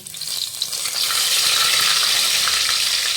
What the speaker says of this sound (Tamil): வெங்காயம், 2 பச்சை மிளகா. இதை நல்லா வதங்கட்டும்.